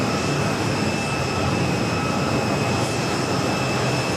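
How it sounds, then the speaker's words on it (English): A Korean Air Airbus A380 taxis close by at JFK airport, a loud, continuous jet engine roar with steady high whining tones running throughout. "that A380 Super is going to be taxiing right in front of our microphones"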